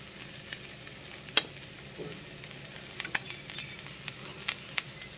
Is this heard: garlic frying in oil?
yes